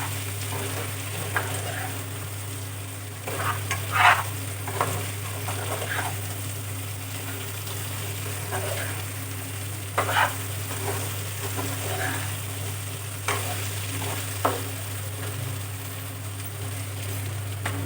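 Mutton and potato curry frying in a pan gets stirred now and then, with soft scrapes over a low sizzle under a constant hum. No one speaks.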